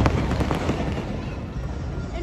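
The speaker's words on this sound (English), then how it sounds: "We are here with all kinds of fireworks going off." Fireworks crackle and pop in a dense, continuous barrage near Universal Studios, loud bursts rising over a rumbling background, with people talking over it.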